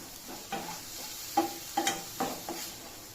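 Mulai keerai spinach sautés in a pan with salt, giving a soft, low sizzle under a few scattered spoon scrapes and clinks against the pan, close but quiet.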